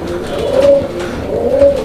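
A pigeon coos twice, close and loud, each a low throaty call with a short pause between.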